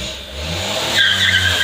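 A 2001 Daihatsu Ceria KL small car pulls away and brakes hard on a short test drive, a loud close engine rise followed by a brief tire scrub, with no voices.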